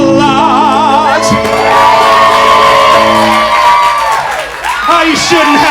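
A burlesque show audience bursts into loud, sustained cheering, whooping and shouting with applause underneath, a dense crowd roar filling the room throughout.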